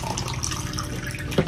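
Water runs from a tap in a continuous soft splashing stream, close and moderately quiet, with a brief louder splash at the end.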